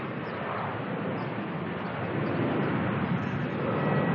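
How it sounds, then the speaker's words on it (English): Qantas airliner on flight QF683 departing Melbourne for Adelaide gives off a steady, broad jet roar heard from a distance, building slightly louder toward the end. "QF683 heading on out now to Adelaide, sorry, from Melbourne"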